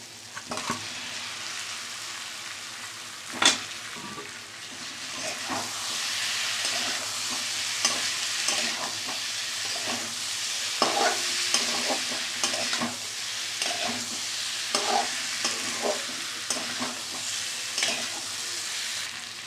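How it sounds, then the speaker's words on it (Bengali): Potato and paneer pieces fry and sizzle in a well-cooked spiced masala while being stirred, with a steady close hiss broken by repeated scraping and clinking of the spoon against the pan. "এবার আলু আর পনিরটা দিয়ে দিচ্ছি"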